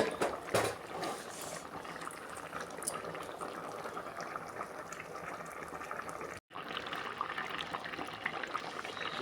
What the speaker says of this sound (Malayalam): കറി ഇവിടെ നല്ല രീതിയിൽ തിളച്ചിട്ടുണ്ട്.